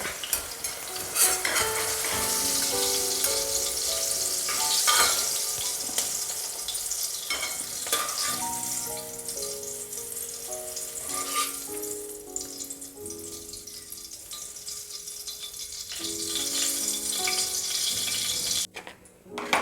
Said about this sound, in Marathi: मस्त आपल्या मिरच्या ह्या तळून झालेल्या आहेत.